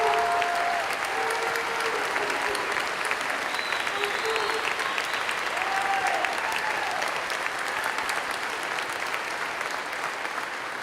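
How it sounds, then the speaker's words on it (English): Sustained applause for students from the audience at a school Veterans Day program in Seymour. A full room claps steadily for about eleven seconds, with a few faint voices under it. "Let's give these students one more round of applause."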